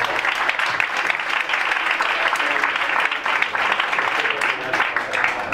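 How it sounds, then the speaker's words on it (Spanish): An audience applauds steadily and continuously after a talk host's introduction, a dense even wash of clapping throughout with no pauses. "Así que un aplauso también para Ben."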